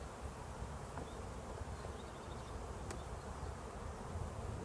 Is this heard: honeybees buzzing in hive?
yes